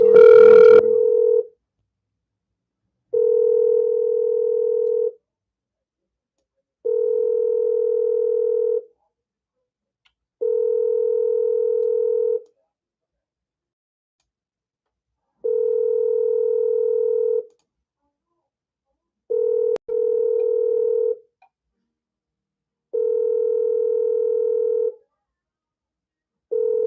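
Telephone line while calling out: repeated steady electronic tones in regular on-off bursts, roughly two seconds each with gaps between, clear and alone with no talk, after a brief opening click.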